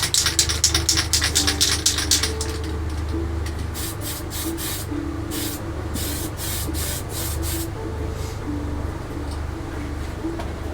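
Spray paint applied to a Revell Battlestar Galactica Colonial Viper scale model, with a series of short, sharp hissing bursts from the can in quick rhythm, close to the listener, over a steady background hum.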